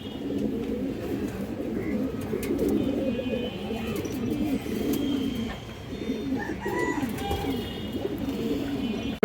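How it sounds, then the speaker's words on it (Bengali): Pigeons coo steadily and close by, a layered chorus of low throaty calls from a loft of female pigeons kept for sale, with a few brief higher chirps mixed in and no talking. "মাদি কবুতর চুইঠাল বা জুটিওয়ালা, এবং সুস্থ সবল কবুতর।"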